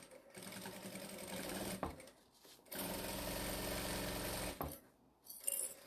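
A sewing machine stitches a fabric tote bag in short bursts, a close, loud, rapid mechanical whirring that stops and starts, with a longer steady run in the middle.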